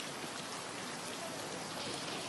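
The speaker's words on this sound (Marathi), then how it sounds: "उन्हाळ्यामधला हा अवकाळी पाऊस" Heavy unseasonal summer rain pours down at a temple complex in Dharashiv, a dense, constant hiss with drops drumming on surfaces nearby and water pooling, without pause or voices.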